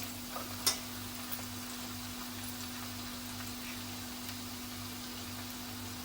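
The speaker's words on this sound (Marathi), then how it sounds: "कांदा छान असं परतून घ्यायचा आहे" Onions sautéing in a pan while asafoetida is stirred in for a Marathi home-style festival offering, a steady soft sizzle with faint stirring scrapes and one sharp utensil tap near the start, no voices.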